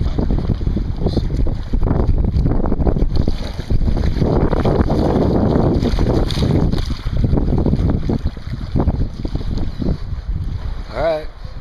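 Strong 15–25 mph wind buffets the microphone during bass fishing on the Central Coast, a loud, continuous rumbling roar that swells and dips throughout with no pause.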